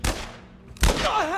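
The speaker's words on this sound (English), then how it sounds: "Nice shooting, Tex." Gunfire in The Last of Us Part I on PC: two heavy, close shots with a booming low end, the second followed by a ringing, wavering tail.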